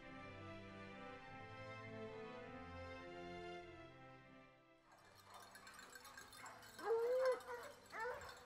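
A pack of some twenty hunting dogs loosed on a wild boar during a driven hunt, heard as sustained howling and baying, fairly distant at first and then closer and louder with sharp yelps near the end.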